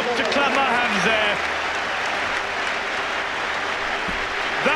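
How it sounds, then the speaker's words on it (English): Hands clap in applause while someone watches a rugby try being scored, a dense burst of clapping alongside a voice speaking over it. "I just got up to clap my hands there."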